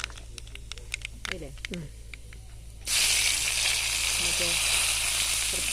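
Dried red chillies and curry leaves drop into hot oil for sambar and burst into a loud, steady sizzle, following a stretch of quiet clinking with a voice speaking.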